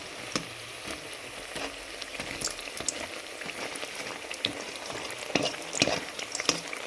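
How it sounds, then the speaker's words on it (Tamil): Potato bajji fry in hot oil at medium heat, giving a close, steady crackling sizzle with scattered sharp pops and occasional stirring sounds, and no talking. "இப்படி போட்டு பொரித்து எடுக்க வேண்டியதான்"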